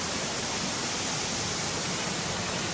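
A North Carolina waterfall gives a steady, dense rush of falling water, unbroken and fairly loud throughout, with no voices.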